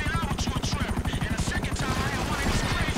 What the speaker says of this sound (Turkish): Bir helikopter eksikti, o da tam oldu.